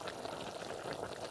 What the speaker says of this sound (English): Okay, things are boiling.